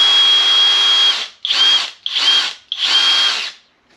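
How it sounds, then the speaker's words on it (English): A power drill whirs loudly in a long steady run while rewiring a 1976 boat trailer, then in three shorter bursts with brief pauses between, its high whine rising and falling with each trigger pull. "So now we're just gonna take the drill."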